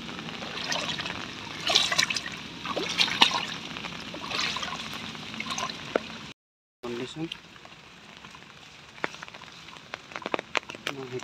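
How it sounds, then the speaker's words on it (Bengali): Steady rain patters on surfaces in a village, with scattered drips and splashes close by, briefly cutting out before the soft wet hiss resumes. "বৃষ্টি তার হতেই আছে, পিটির পিটির পিটির পিটির"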